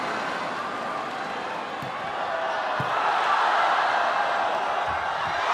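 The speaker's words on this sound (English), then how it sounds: "The crowd on their feet." A volleyball arena crowd of Chinese fans roars steadily at a China versus Netherlands match, the cheering building louder toward the end, with a few faint thuds and a commentator's voice over it.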